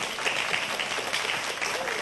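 A studio audience at a science show on math tricks applauds with steady, dense clapping throughout, fairly close and sustained for the whole moment.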